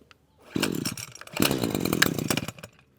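A Husqvarna 123HD60 hedge trimmer's two-stroke engine on half choke fires up in two loud, buzzing bursts, revving and sputtering close by before dying away.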